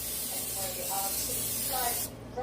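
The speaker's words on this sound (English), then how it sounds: "I need to remind you that I spray this pan" Butter-flavored cooking spray hisses from a can onto a skillet pan in a steady, close spray lasting about two seconds, then cuts off abruptly.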